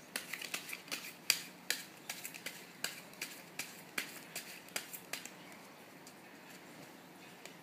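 A deck of playing cards is shuffled for a card magic trick, making a quiet, regular series of crisp flicks and snaps close by against a hushed background.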